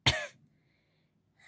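A sick child with a croaky voice gives a single sharp, close cough, followed by quiet and a faint sound at the end.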